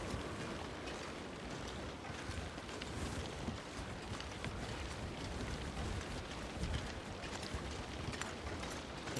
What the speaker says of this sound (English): I hear running water.